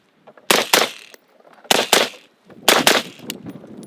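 Three gunshots ring out during a shoot/no-shoot drill on a range, each sharp loud crack or close double report spaced about a second apart, with no talking between them.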